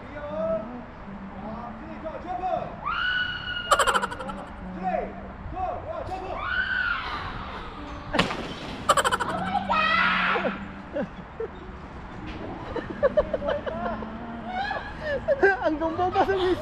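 Riders scream on a SCAD freefall dive, voices rising and falling in bursts with sharp peaks, mixed with shouting, laughter and crowd babble close by.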